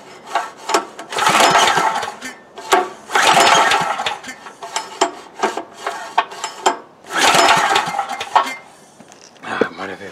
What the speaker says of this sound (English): I think we're going to actually spray some gas in it and see if it kind of fires off